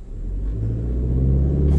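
A GAC Trumpchi GS3 Power in Sport mode with ESP off holds its engine at about 2200 rpm before launch, a low, steady droning rev that builds slightly over two seconds.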